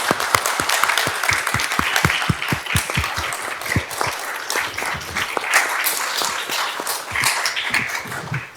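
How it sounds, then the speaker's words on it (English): Audience giving panelists a warm round of applause at a talk on diversity and inclusion, with sharp individual claps near the start and a steady crowd of clapping that continues for over eight seconds. "Can we give them a warm round of applause?"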